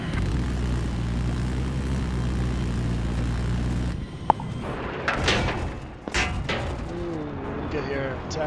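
Attack jet in Battlefield 4 roaring steadily with a loud engine drone for about four seconds, then giving way to busier game sounds, sharp impacts and a rising whine with talking over it.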